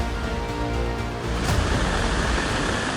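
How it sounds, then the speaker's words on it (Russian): A heavy downpour and the swollen Sochi river rushing in Sochi during a Balkan cyclone, a dense, loud, continuous roar of water with no let-up and no voices. "Ливень шпарит, река поднялась, река Сочи."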